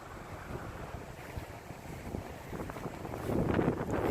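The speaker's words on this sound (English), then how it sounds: "It's definitely still windy out." Steady wind roars outdoors after Hurricane Irma, with gusty rumbling that builds louder toward the end; no voices.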